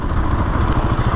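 A 2020 Husqvarna 701 SM single-cylinder motorcycle engine, in a riding mode with sluggish throttle response, gives a short loud rev that barely climbs. The rough, lumpy pulsing is close to the mic and there is no talking.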